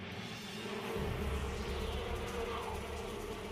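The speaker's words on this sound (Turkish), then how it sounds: "Savunmacı bal arıları sürü halinde hızla eşek arısının etrafını sararlar" Defensive honey bees swarm tightly around a hornet, their wings producing a dense, continuous buzzing drone that swells slightly and holds steady at close range.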